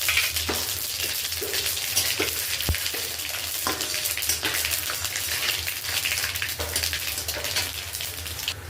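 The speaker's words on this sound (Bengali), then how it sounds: "কড়ার মধ্যে তেল দিয়ে দেব। এখানে 5 ফোড়ন দিয়ে দেব।" Panch phoron spices sizzling in hot oil in a kadai: a strong, steady crackling hiss close by, with a few light pops and taps throughout, no voices.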